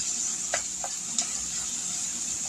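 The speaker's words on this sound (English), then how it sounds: "Now we're starting to get that good sizzle" Food sizzles steadily in a hot pan, a constant hiss with a few soft clinks of stirring.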